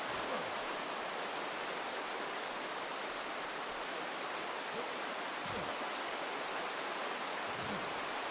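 A waterfall on the Ragnarok map of the ARK video game produces a constant, even rushing roar of falling water with no talk over it.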